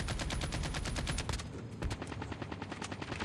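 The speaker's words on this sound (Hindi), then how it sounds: "यहाँ पर पीछे से बंदा फायर करता है" Automatic gunfire in the mobile shooter Call of Duty Mobile comes as a dense, loud, rapid stream of shots, briefly thinning before more fire resumes to the end.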